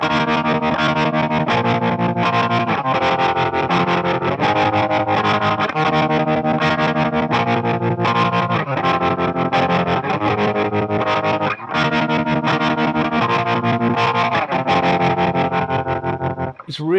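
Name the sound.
guitar through Electro-Harmonix Nano Pulsar tremolo pedal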